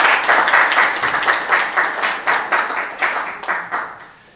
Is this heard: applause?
yes